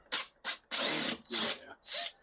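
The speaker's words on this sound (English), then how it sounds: "Let me take those screws out." A power drill backs screws out of door hinges set in wood, five short close bursts of whirring separated by brief pauses, the middle burst running longest.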